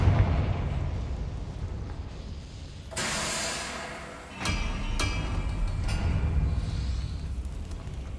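A Confringo fire spell bursts in the video game Hogwarts Legacy, a loud explosive blast with hissing crackle at about three seconds, followed by a second sharp boom and smaller pops over rumbling game ambience.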